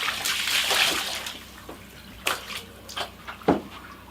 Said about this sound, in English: I can hear it draining.